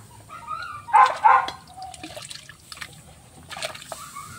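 Washed raw chicken feet are dropped into a cooking pot of water, giving two close, loud splashes followed by lighter trickling and sloshing, with a brief later splash.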